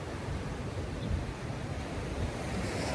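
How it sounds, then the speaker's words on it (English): Ocean surf rolls in steadily at the beach with a constant wash of wind buffeting the microphone, a dense continuous roar without pause and with no voices. "I'm right here on the ocean"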